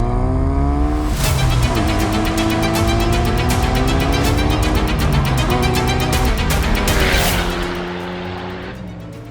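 A Dallara Stradale, a road-legal sports car with motorsport heritage, drives hard. Its engine sounds loud and close, climbing in pitch through repeated gear changes before easing off and fading slightly at the end.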